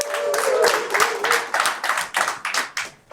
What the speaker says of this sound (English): give yourselves a round of applause for being here today